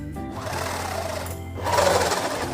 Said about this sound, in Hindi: अब हमें यहाँ पर सिलाई लगाना है,